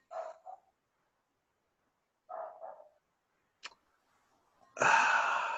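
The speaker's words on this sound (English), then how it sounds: "I hear a dog barking." Dog barks in short clusters, three separate bursts spaced across a few seconds, fairly close and clear, followed by a louder broadband noise at the end; no talking.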